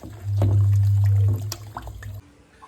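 Water runs and splashes steadily for about a second with a low rushing tone while mutton is washed, then gives way to scattered small drips and wet handling sounds.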